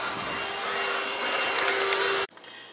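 A vacuum cleaner roars steadily at close range on a front porch, then cuts off abruptly near the end, leaving quiet background.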